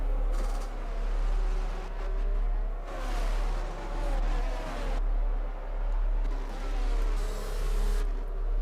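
Race cars roar around a track in an online league race on a video game's Spain circuit, their engine drone swelling and fading in a regular pulsing rhythm, with brief higher revving passages.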